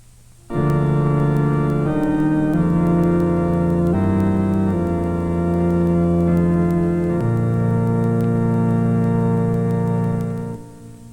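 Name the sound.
full organ tone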